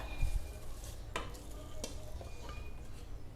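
Vegetables, including spring onions, go into a cooking pot and sizzle close by, with a couple of sharp utensil clinks against the pot over a steady background hiss.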